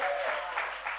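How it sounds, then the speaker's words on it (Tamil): A church congregation claps hands in praise during a Sunday service in Puducherry, a brief burst of crowd clapping with faint overlapping voices. "கைத்தட்டி கர்த்தரை ஸ்தோத்திரம் பண்ணுங்க."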